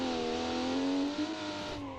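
An inline-six turbo wagon engine in BeamNG revs steadily and loudly on its own, its harmonic tone climbing slightly and then easing off across two seconds.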